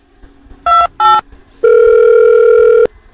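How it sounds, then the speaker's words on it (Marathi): A phone being dialed: two short keypad tones, then a steady dial tone holds for over a second, loud and close with nobody speaking. "दुकानदारला फोन तरी लावतो"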